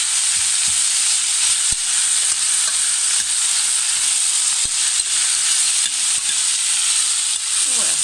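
Amaranth seeds stirred in olive oil in a pan give a loud, constant sizzling hiss, with occasional faint scrapes and taps from stirring throughout.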